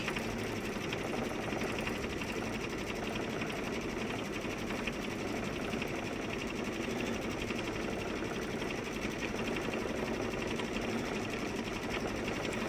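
Embroidery machine running a continuous run stitch for a shamrock design, a steady mechanical hum and rapid needle chatter at low level, unbroken throughout with no voices.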